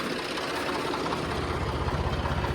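An old-model Swaraj 855 tractor engine runs at a steady idle, giving a close, loud, continuous low diesel throb with a slight rhythmic knock.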